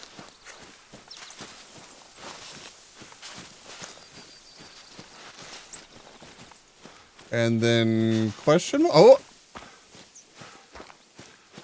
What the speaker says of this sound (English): that was it that we heard stomping around over here